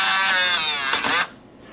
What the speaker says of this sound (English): hold down the program button and drop in the battery pack, and you'll hear it beep